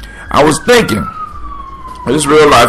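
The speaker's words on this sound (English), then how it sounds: "You can hear the sirens in the background." A distant police siren wails with a slowly falling tone beneath someone talking close up.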